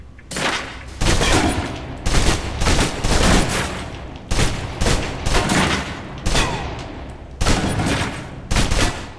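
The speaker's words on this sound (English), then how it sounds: "Now let's empty the clip. Let you get a feel for the recoil." Automatic gunfire from a video game weapon, loud close bursts of rapid shots repeating in a steady rhythm with brief pauses between, continuing until the magazine runs empty.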